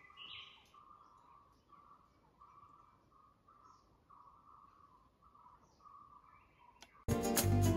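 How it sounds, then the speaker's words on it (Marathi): Birds call steadily through dense forest on the trail to Gupt Bhimashankar, a repeated mid-pitched chirping with higher tweets above, moderately distant under a soft insect-like hiss, ending in a sudden loud burst of noise. "आणि शांत पक्ष्यांचा आवाज."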